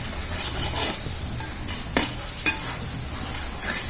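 Kerala-style pork vindaloo masala frying in oil over a wood-fired stove, stirred with a spoon: a steady close sizzle with scraping strokes and two sharp clicks of utensil against the pot.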